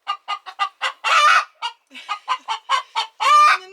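Backyard hens cluck loudly and close, a quick run of short clucks broken by two longer drawn-out squawks, with no voices over them.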